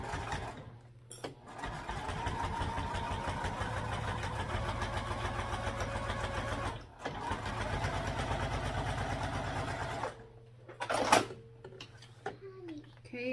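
A sewing machine top-stitches a fabric sling, its needle chattering in a fast, even rhythm through two long runs broken by brief pauses.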